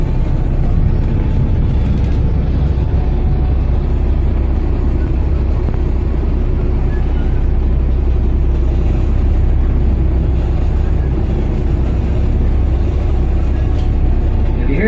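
Dublin Bus B7TL double-decker AV66 squeezing around a tight corner, its diesel engine a steady, close, low rumble that holds evenly throughout without any sharp revs.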